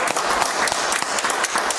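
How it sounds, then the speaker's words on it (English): A church congregation claps hands together, a dense burst of many overlapping claps at close range, lively and sustained for the whole moment. "Give him one more hand clap tonight."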